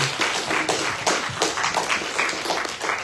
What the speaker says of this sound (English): Can we give him a round of applause again?